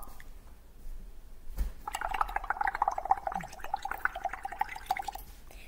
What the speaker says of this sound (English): That makes bubbles.